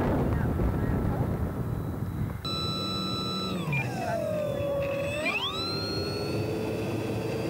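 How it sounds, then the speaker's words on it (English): An FMS F4U Corsair 1400mm V3 RC warbird flies at full throttle, its motor whine sliding down in pitch and then climbing back up as it passes, with steady wind rush behind it. "I'll be at full throttle almost this whole entire flight."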